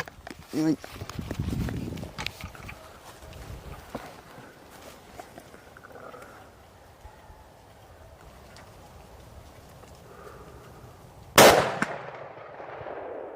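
A single loud gunshot aimed at a target with a concrete cinder block behind it bursts out sharply near the end, after a stretch of quiet movement, shuffling and faint talk.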